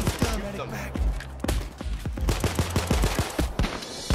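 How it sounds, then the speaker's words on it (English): Rapid bursts of gunfire from a Payday 2 heist shootout crack in a fast irregular rhythm, loud and close, with a brief pause before the shots resume. "Yeah, I'm gonna shoot them."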